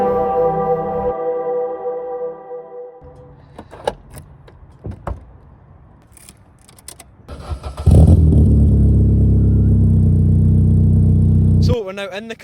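A Vauxhall Corsa B engine pulls away, a loud steady drone building near the end after some door and interior clunks, with people talking throughout.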